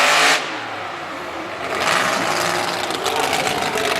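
A monster truck engine revs during a racing event in Durham, Connecticut, first a short loud burst, then a lower drone that swells again into sustained revving at mid distance.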